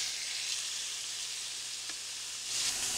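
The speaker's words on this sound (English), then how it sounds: "What we're going to do is start rotating it around until it's browned on all sides." A beef roast for shredded beef tacos sizzles steadily in a hot pan, a continuous, quiet frying hiss that holds even throughout with no speech.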